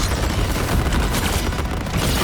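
Rockets and gunfire blast continuously in the Marvel Rivals video game, a dense, loud barrage of explosions and shots with no letup.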